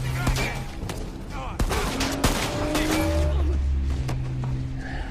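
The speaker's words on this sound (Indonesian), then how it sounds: "Baku tembak pun akhirnya terjadi." Film gunfight with rapid bursts of gunshots, loud sharp cracks scattered across the scene over tense music and background noise.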